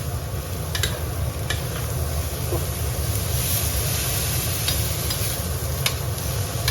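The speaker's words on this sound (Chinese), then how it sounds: "豆角一定要多炒一会儿，咱们先开大火给它炒软。" Green beans stir-fried over high heat in a wok, a loud steady sizzle with frequent scraping and clinking of the spatula throughout, close and continuous.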